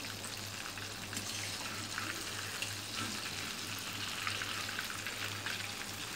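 Chicken pieces for a zinger burger frying in a pan of oil, a steady close bubbling sizzle with soft crackles, running continuously over a faint low mechanical hum.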